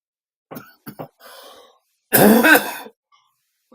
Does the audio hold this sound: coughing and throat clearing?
yes